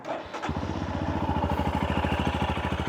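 A 2023 Royal Enfield Scram 411 fires up after a brief starter whir and settles into a steady, even single-cylinder idle, a close, rhythmic thumping exhaust beat that continues to the end.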